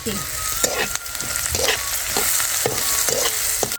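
Chillies dropped into hot oil with cumin and onion, frying with a loud, steady sizzle up close while a spatula scrapes and stirs in regular strokes about every half second.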